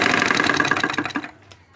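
A sewing machine stitches a folded blouse hem in a short, rapid burst of rhythmic mechanical clatter up close, then slows and stops after about a second.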